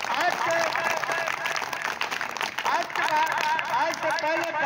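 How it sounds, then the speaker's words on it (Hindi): An audience claps steadily through the whole stretch at a speech, dense continuous applause with crowd voices mixed in. "ताली बजाओ"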